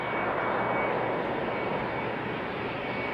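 A Corendon Embraer 175 regional jet arriving at Amsterdam Schiphol from Bristol, heard as a dense, even engine roar, steady and moderately distant across a short stretch.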